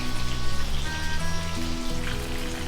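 Prawns deep-fry in hot oil for prawn Manchurian, a steady crackling sizzle that carries on without a break, close and fairly loud, with a faint hum running underneath.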